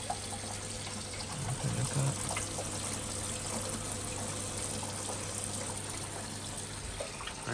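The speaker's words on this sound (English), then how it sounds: "So that's just going on to a final rinse now." Heavily repaired washing machine on its final rinse, water pouring and trickling steadily into the drum with a constant low motor hum, fairly quiet and continuous throughout.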